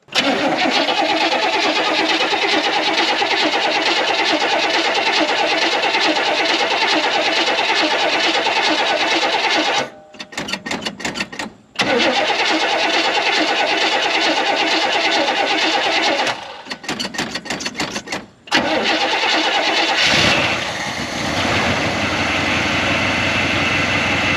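A 1969 Buick Wildcat, long stored in a barn, turns over and runs in a loud, steady rumble close by, with brief gaps where the sound drops away and the engine keeps idling.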